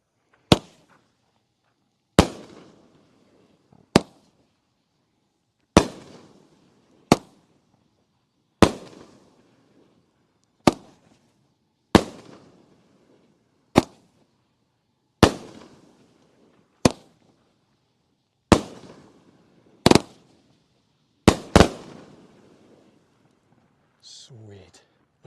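A series of loud, sharp Cannon Fire firework bangs go off one after another at irregular intervals of a second or two, each ending in a brief crackle, on bonfire night.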